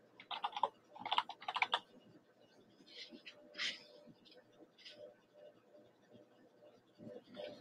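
Typing on a computer keyboard, a few quick bursts of close key clicks followed by sparser taps, with soft speech faintly underneath.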